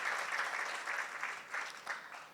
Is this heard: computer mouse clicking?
no